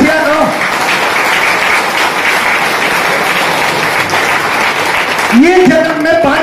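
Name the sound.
audience clapping, applause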